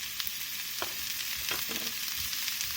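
Carrots, peas and corn stirred into quinoa in a hot pan give a steady sizzle with scattered scraping and clinking of the spoon, close and moderately quiet, no voices.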